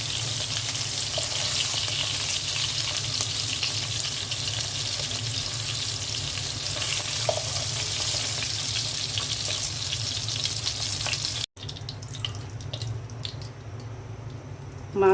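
Onions frying in hot oil left from frying rohu fish, a steady, dense sizzle that goes on throughout, then quieter frying after a brief cut, with no talking.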